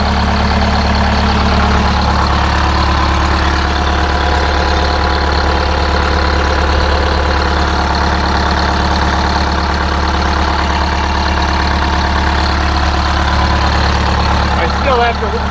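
A Detroit Diesel 8V-71 engine idles right after a starter change, a loud, steady, low diesel rumble running throughout at close range.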